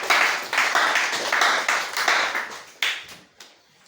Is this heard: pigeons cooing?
no